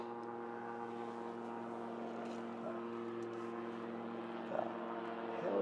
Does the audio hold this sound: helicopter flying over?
yes